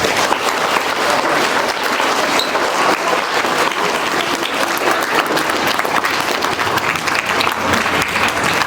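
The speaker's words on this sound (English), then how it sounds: "Give these 5 students a round of applause." Steady, dense applause from a crowd at an elementary school Black History Month celebration fills the whole stretch, loud and continuous without pause.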